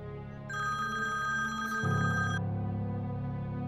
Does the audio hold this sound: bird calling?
no